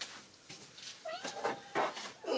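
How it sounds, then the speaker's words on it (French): Kittens meow in a few short, close, high-pitched calls, clustered toward the middle and end of a brief indoor moment with a quiet background. "Des bébés chats."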